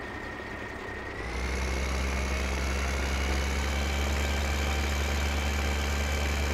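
A tractor engine in Farming Simulator 2015 starts from a quieter idle, then settles into a loud, steady, low-pitched running hum as the tractor drives on, with no voices over it.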